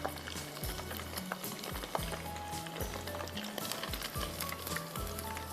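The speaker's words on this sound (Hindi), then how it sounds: "ये देखिए बीफ हमें अच्छा खासा फ्राई करना है।" Beef frying in hot oil: a steady, soft sizzle runs underneath a prominent looping musical melody with no talking.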